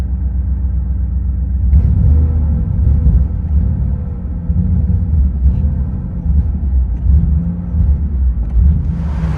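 A Camaro IROC-Z V8 engine with open headers rumbles heavily at idle, deep and loud, with slight swells in revs and no voices.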